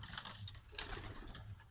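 Pigeons cooing in a loft, soft low murmuring coos with a few faint flutters, quiet and somewhat distant, without voices.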